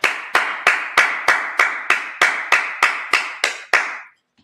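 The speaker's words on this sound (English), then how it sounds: "Clap it up" A group of people at a Sabbath service claps together in slow unison, twelve sharp, even beats roughly a third of a second apart, loud and close, then stops.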